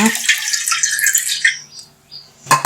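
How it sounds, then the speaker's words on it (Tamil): Strained tamarind water is poured into a fish curry, giving a short, close, bright trickling splash that thins out, followed by a brief clink at the end. No one speaks. "புளியை கரைச்சி வடிகட்டி ஊற்றிக்கோங்க"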